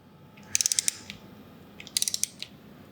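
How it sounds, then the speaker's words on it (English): Two quick bursts of crisp ratcheting clicks, about five or six clicks each, from a torque wrench set to 18 inch-pounds snugging the bolts of a Harley-Davidson Vision-X air cleaner in a crisscross pattern. The clicks are close and clear over a quiet room. "have an inch-pounds torque wrench, and we're going to tighten this to 18 inch-pounds"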